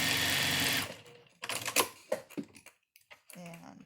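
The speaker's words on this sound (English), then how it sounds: "now I'm going to stitch it down" A sewing machine stitches a pleated fabric face mask with elastic and nose wire, running in a loud, close, steady buzz for under a second before stopping and leaving soft handling noises and clicks.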